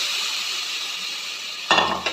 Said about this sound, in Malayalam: പയറിട്ട് കൊടുത്തേ, ചേർത്തൊന്ന് മിക്സ് ചെയ്തെടുക്കട്ടെ